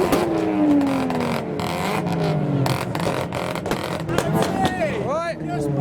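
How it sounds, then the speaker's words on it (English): A Honda Civic's engine revs hard at an outdoor rev battle, its pitch sweeping down and rising again in loud bursts amid other cars and crowd noise, with people talking over it. "Civic's making some noises"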